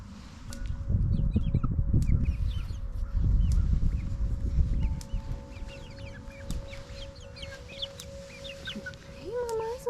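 Backyard hens, including young speckled Sussex, clucking and chattering softly amid rustling, low rumbling background noise, with occasional higher calls and a faint whistle-like tone later.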